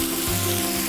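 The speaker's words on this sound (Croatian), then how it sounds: "minutu dvije sve zajedno piremo, odnosno pržimo" Pieces of cod with pancetta, butter and herbs fry in a pan, a dense, steady sizzle close up, with a faint scrape of stirring and no voices.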